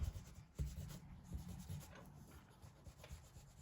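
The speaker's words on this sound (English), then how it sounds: "So I'm just going to go mad rubbing stuff out here." An eraser rubs out pencil lines on paper during an isometric sketch, giving quiet, brisk scrubbing strokes in short irregular bursts close to the page, with no talking.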